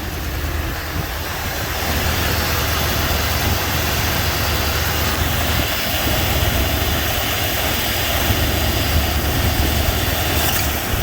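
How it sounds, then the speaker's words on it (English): A 1970 Ford Mustang Mach 1 engine running, heard as a loud, steady, unbroken roar with heavy broadband rumble and no talking. "y'all can hear the engine a little bit."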